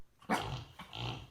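Husky dog growling close up, two short rough grumbling bursts with a brief gap between, fairly quiet, no talking.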